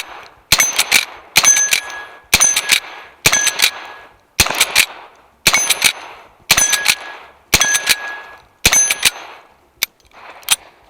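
Lever-action rifle, an 1873 model, fired at targets in a steady string of about ten loud, sharp shots roughly a second apart, each followed by a metallic ring and the clack of the lever cycling between shots.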